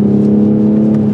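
Toyota Supra engine running in sport mode, a loud steady droning hum with a strong low tone, held briefly without clear rises or drops.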